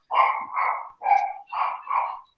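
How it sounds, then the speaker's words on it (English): A dog barks five times in quick succession, close and fairly loud, each bark short and full with brief gaps between them and no talk over it. "And my dog barked."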